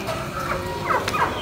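Fowl clucking and calling close by, several overlapping bird voices over a noisy outdoor background.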